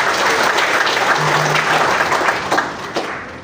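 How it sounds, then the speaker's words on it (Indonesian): Audience applause fills a formal government contract-signing ceremony hall, a dense, steady wash of many hands clapping close and loud, thinning slightly near the end. "Tepuk tangan buat kita semua dulu."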